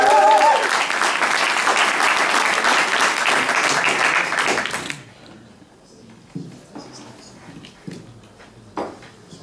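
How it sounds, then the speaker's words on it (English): Audience applause at a refugee entrepreneur pitch evening, a dense, loud burst of clapping for about five seconds that then cuts off, leaving quiet room sounds with a few faint knocks. "Big applause."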